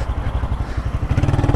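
A Honda Titan motorcycle engine runs close by, a low, rapid, even putter of firing pulses that quickens slightly toward the end.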